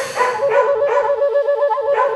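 A dog barks and yelps loudly in a rapid, uneven string of high-pitched, whiny calls, close by and alone.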